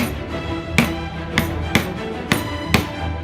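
Five sharp hammer taps strike marked points on wood to start guide holes for screws, spaced at a slow, steady rhythm over a faint background hum, close and distinct with no voices.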